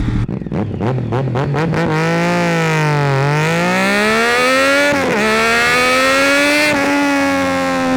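A Triumph Daytona 675 sport motorcycle accelerates hard, its engine note climbing through several gear changes with brief dips between shifts, loud and close throughout with no talking.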